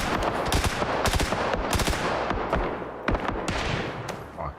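Gunfire in PUBG, rapid bursts of automatic shots crackling fast and dense, near and loud throughout, some single reports standing out among the bursts.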